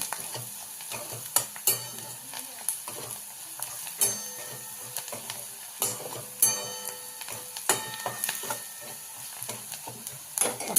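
A mixture of coriander leaves, salt, turmeric, garam masala and coriander powder sizzles as it is sautéed in a pan, with frequent metallic scrapes and clinks from a spoon stirring it.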